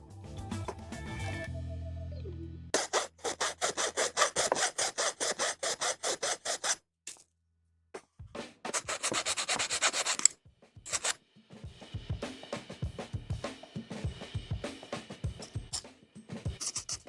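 A file rasps across a plastic part from a 1/144 HG Bandai Gundam kit, the AGK-04 Gerbera-Tetra, in quick rhythmic back-and-forth strokes, close and fairly quiet, with brief pauses between bursts.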